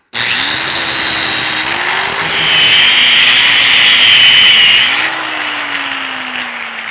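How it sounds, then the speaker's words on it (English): A power grinder dresses the top of a weld on a homemade hardy tool, giving a loud, continuous metallic roar with a whining motor pitch that sags and rises as the grinder bears down, with no voices. "after minutes of grinding, there it is"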